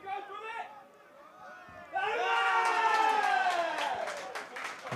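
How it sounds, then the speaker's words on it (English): Local fans at an Esher v Sedgley Tigers rugby match cheer and whoop loudly, the crowd swelling suddenly after a quieter start, with voices raised throughout. "you can tell the local fans here are cheering everything"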